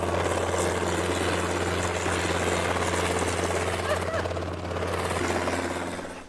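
A helicopter drones loudly and steadily with a thick, churning rotor and engine roar that fills the whole clip, easing slightly near the end.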